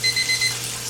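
A kitchen timer beeps in four quick, loud, evenly spaced bursts while chicken is being fried, then stops, leaving low background hum.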